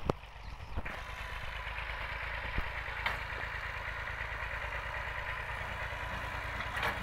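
A 240 tractor engine runs with a Russian disc harrow in a field, a steady mid-pitched diesel drone held throughout, close and moderately loud, with a few sharp clanks on top.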